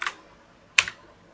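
Two crisp key taps on a computer keyboard, close and clear, about three quarters of a second apart in a quiet room.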